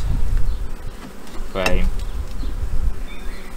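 Honeybees buzz steadily around an open hive during a frame inspection after a swarm, a dense close hum with a brief voice cutting in midway.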